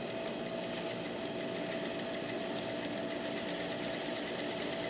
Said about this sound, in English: I'm going to sew right on that line. So my eye is going to be right here, watching this line up right in between the presser foot